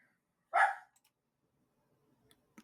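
A dog barks once nearby, a single loud, sharp bark in a quiet indoor room, followed by near silence and a faint short sound at the very end.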